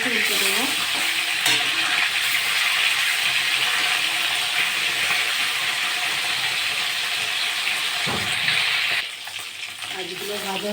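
Freshly flipped tilapia pieces crackle in hot mustard oil, a loud, continuous close sizzle mixed with scraping and stirring sounds from a spatula, easing off slightly near the end.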